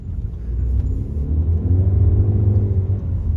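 Deep, steady exhaust rumble from a 2023 Volkswagen Polo GTS with a 1.4 engine of 150 horsepower, rising slightly in the middle as it idles and revs gently, close and alone.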